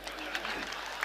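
Applause from the audience at a Hindi kavi sammelan poetry recital, a short, steady patter of clapping mixed with crowd murmur and some talk.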